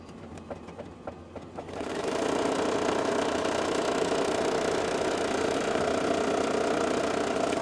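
An embroidery machine stitching a placement line for a treat bag whirs up after a few soft ticks, then runs as a steady, close mechanical hum with rapid needle chatter.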